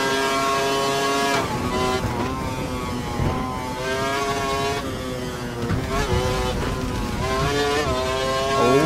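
A Formula 1 car racing in the F1 2012 video game during practice at Melbourne: a loud, continuous engine whine that climbs and drops repeatedly through gear shifts.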